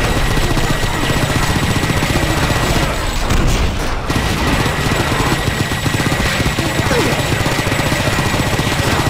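Dense, sustained gunfire and heavy booms from tanks in the shooter game Painkiller, loud and continuous throughout with a brief dip near the middle.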